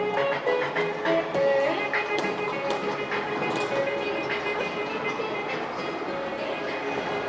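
A small children's ride train runs inside a quiet shopping mall in Saigon, its clicking, rattling wheels and faint bell-like tones echoing in the large indoor hall, with mall ambience and distant voices around it.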